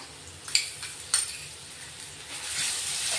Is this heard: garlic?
yes